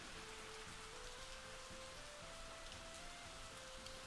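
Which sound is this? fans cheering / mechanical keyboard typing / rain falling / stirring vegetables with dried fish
rain falling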